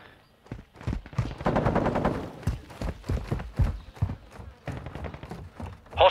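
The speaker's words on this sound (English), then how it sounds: "Taking fire!" Rapid gunfire in Call of Duty Modern Warfare 2, dense bursts of shots cracking close and loud, with a sustained volley in the middle and scattered shots after it.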